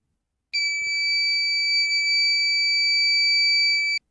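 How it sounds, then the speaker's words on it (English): A temperature and humidity detection machine's buzzer sounds one continuous, shrill, steady electronic tone for about three and a half seconds, clear and alone against near silence. "So the LED light will turn on and the buzzer will turn on as well."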